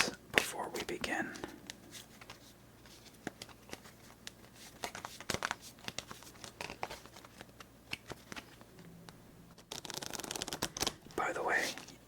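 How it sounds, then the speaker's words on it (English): A deck of playing cards for the card game Regicide is shuffled close up, with crisp riffling and rapid flicking bursts, soft handling rustles and quiet whispering between them. "The rest of the cards form the tavern deck, and we'll shuffle this before we begin."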